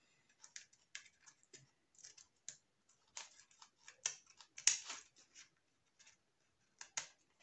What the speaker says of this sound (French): on va passer sur les petits ciseaux de précision de scrap